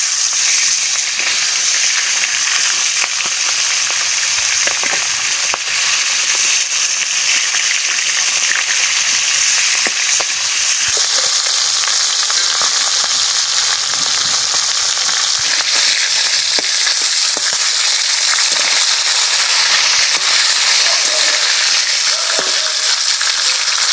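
Fish pieces fry in hot oil for a kochu and fish curry, a loud, continuous sizzle and crackle that persists the whole time with occasional stirring clatter. No voices are heard.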